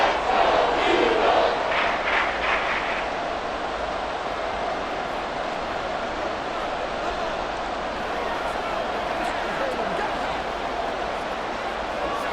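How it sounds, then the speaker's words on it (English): Stadium crowd roaring in the Madden 24 football video game during a Dolphins vs. Eagles matchup: a steady wash of cheering noise with a brief louder burst at the start, holding at an even level throughout. "This crowd doing all they can."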